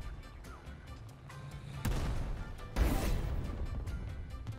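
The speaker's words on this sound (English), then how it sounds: "Time to revenge bomb him." Bomb explosions in the War Thunder combat game, with two sudden loud blasts about a second apart, each rolling into a long, dense rumble over a steady background of battle noise.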